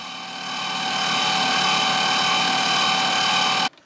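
A Grizzly G0765 7x14 mini lathe spins in high gear near 2200 RPM, giving a steady, loud motor whine with a bright mechanical hum that ramps up briefly at the start, holds even, then cuts off abruptly near the end.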